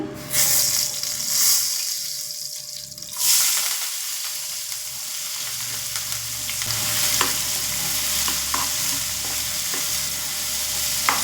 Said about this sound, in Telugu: కట్ చేసుకున్న ఆనియన్స్, పచ్చిమిరపకాయలు, కరివేపాకు వేసుకుంటున్నాను.